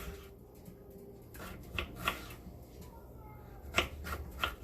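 Knife chopping potatoes lengthwise into fries on a cutting board, a quiet, irregular series of light taps and clicks in a kitchen.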